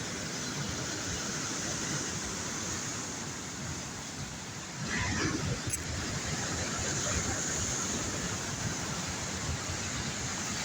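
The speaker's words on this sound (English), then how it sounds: "Waves are rolling in." Ocean surf rolls in steadily at a beach at dusk, a broad continuous wash of breaking waves that swells slightly louder partway through, with no voices.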